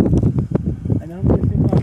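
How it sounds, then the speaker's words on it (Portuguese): Strong wind buffets the microphone outdoors beside a windmill water pump, gusting in uneven rushes throughout. "O vento tá grande aqui hoje"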